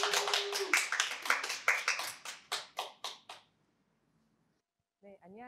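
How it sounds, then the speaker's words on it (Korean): An audience claps to welcome a lecturer to a talk on reducing waste, a brisk patter of many hands that thins and fades over about three seconds, followed by silence and then a voice beginning to speak. "우리 양용규 대표님 강의 박수로 청해 듣도록 하겠습니다."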